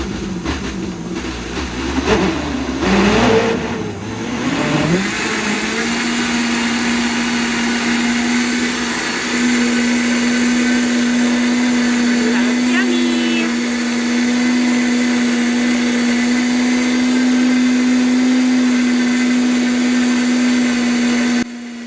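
A blender making a copycat Wendy's Frosty starts with a few uneven churning surges, then settles into a loud, steady motor whine that climbs in pitch as the speed is gradually raised and holds there.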